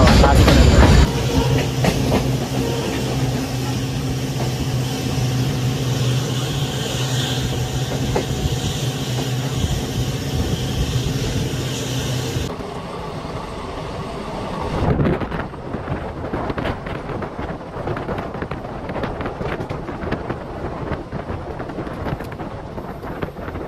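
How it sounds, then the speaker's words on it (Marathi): Superfast express train from Mumbai's Chhatrapati Shivaji Maharaj Terminus to Solapur running on rails, a steady loud rumble with rhythmic clickety-clack and wind buffeting, which drops to a quieter, thinner run partway through. "डायरेक्ट कंटिन्यू रेल्वे प्रवास बघत राहा."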